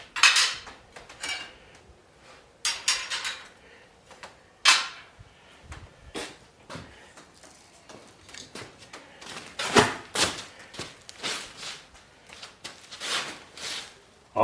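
Metal cutting blades for a Y9-550 radio-controlled brush-clearing mowing robot clink and clatter as they are handled and fitted, with sharp irregular metallic knocks and scrapes separated by quiet gaps, close up.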